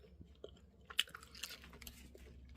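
Someone chews a leftover protein bar up close, with soft, irregular bites and a few sharper crunchy clicks over a quiet room.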